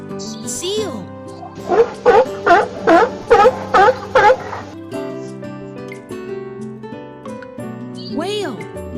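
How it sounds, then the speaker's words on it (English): A seal calls with six loud, evenly spaced barking honks in a steady rhythm over background music, and a voice speaks briefly before and after. "seal"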